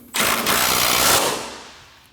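An impact gun rattles in a short, loud burst, about a second long, while snugging the strut top nuts on a 2011-2016 Kia Optima front strut and spring assembly, then fades out.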